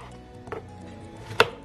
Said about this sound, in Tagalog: So, hinihiwa ko na ang mga strawberry para sa